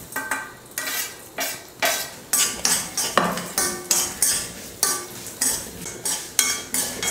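A utensil scrapes and clinks against a pan in a steady, regular rhythm as vermicelli is stirred and roasted in ghee, close and fairly loud with no voices.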